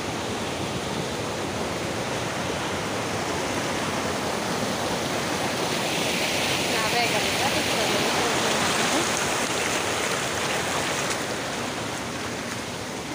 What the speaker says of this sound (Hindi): पीछे नदी आ रखी है भयानक, इसलिए नदी की आवाज़ ज़्यादा हो रही होगी